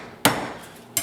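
A clove of garlic gets smashed with two sharp, loud impacts, a hard whack near the start and another near the end, each with a bright crack over a board, separated by a quiet pause.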